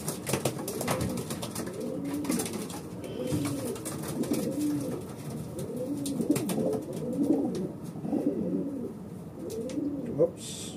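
Racing pigeons coo continuously in a basket before a race in La Union, several birds overlapping in a steady rolling chorus, close and moderately loud, with faint background noise and occasional rustling.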